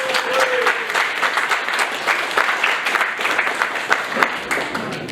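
Crowd applause for fighter pilots at a 1940s-themed railway weekend, dense steady clapping from a large outdoor audience, moderately loud throughout with a brief voice at the start.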